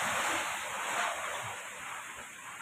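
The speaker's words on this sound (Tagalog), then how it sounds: "lumakas tuloy yung hangin." Strong storm wind from an approaching typhoon roars steadily outdoors as a dense, rushing blast that swells and eases slightly over a few seconds, with no talking.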